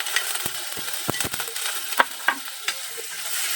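Ginataang sitaw sautés in a pan with dried fish (daing), a soft steady sizzle broken by sharp scraping and clinking strokes of a stirring utensil, close up with no talk.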